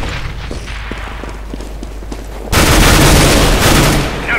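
Gunfire in the video game CS:GO: a handful of sharp single shots for the first half, then a sudden loud, dense burst of rapid automatic fire that carries on to the end, with no talking.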